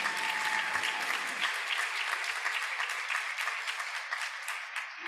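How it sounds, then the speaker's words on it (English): Sustained applause from a commencement audience at a medical school winter graduation, loud and dense at first and gradually thinning toward the end, with no talking over it. "Now give me a round of applause for that."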